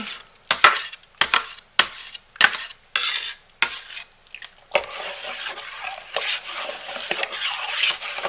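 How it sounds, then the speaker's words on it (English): A spoon stirs homemade lotion ingredients in a container, producing a series of sharp clinking and scraping bursts separated by short pauses, then a softer continuous swirling scrape. "I need to stir those up"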